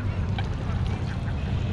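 Ducks quack faintly at a park over a steady low rumble of outdoor background noise, a few short calls scattered through.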